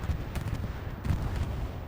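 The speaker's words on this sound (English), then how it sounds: "We're hearing a bomb run come in. It's an ESPT bombing run." Bombs from a bombing run in Hell Let Loose land as a dense, continuous roll of low, rumbling blasts with scattered sharper cracks, steady and somewhat distant throughout.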